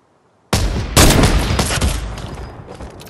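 Rapid burst of gunfire in the Fortnite video game, starting abruptly after a short silence, loud and close, with a dense volley of shots that tails off over a couple of seconds.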